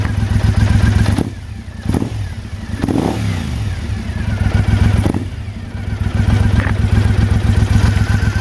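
A 2012 Triumph Speedmaster motorcycle with a BC Bomber exhaust idles with a deep, steady loping rumble, broken by a few throttle blips and clunks, close and loud.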